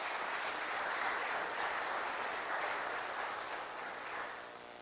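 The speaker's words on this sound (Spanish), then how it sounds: "Aplausos, por favor." Sustained broadband applause from an audience at a cultural event at the Centro Cultural de España in Santo Domingo, welcoming the Minister of Culture; steady dense clapping throughout, easing slightly toward the end.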